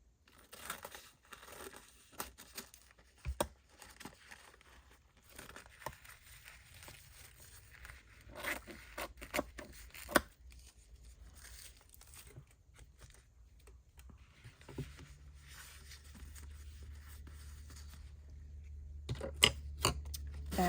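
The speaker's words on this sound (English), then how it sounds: "So let me just cut more along these pieces." Scissors cutting paper pieces for a Tim Holtz sewing-themed pocket folio, a close run of crisp snips and light paper crinkles at an irregular pace, growing denser toward the end, with no talking.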